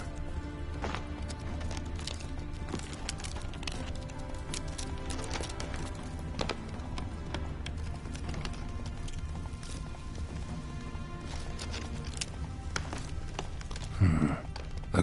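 Horse hooves clip-clopping at a steady riding gait in The Witcher 3, a continuous rhythmic patter of hoofbeats kept fairly quiet beneath other game sound.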